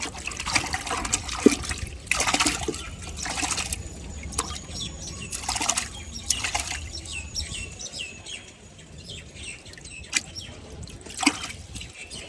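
Water draining from a home fish tank during a water change, trickling and splashing unevenly with birds chirping in the background and no voices.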